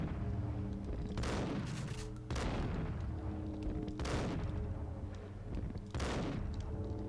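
Gunshots fired at Lupino in the Max Payne video game: several loud, punchy shots at irregular intervals over a droning background score, each ending in a booming decay.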